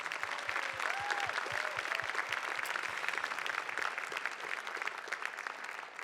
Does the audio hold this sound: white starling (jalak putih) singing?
no